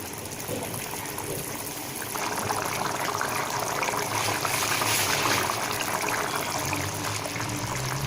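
Steady bubbling and hissing of mutton curry simmering in a pot, a continuous close wash of sound that swells slightly partway through.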